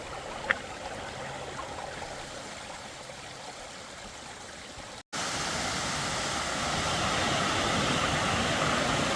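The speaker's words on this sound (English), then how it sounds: "it's like a creek running down the trail here" Water rushes steadily down a steep mountain trail on Mount Moosilauke like a small creek, a continuous broad splashing roar that grows louder after a brief cut midway.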